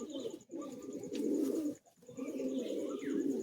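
Madrasi pigeons cooing close by, soft continuous throaty rolling calls broken by two brief pauses, with a faint high whine running throughout.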